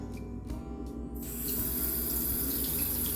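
Tap water runs steadily into a sink while apples are washed for homemade apple sauce, a continuous close splashing stream that begins after a few soft knocks in the first second.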